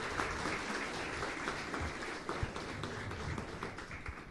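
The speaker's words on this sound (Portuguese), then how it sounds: "Vamos aplaudir e receber." A crowd at a public hearing on a city master plan applauds steadily for several seconds, the clapping fairly faint and distant in a large room, with an occasional louder tap.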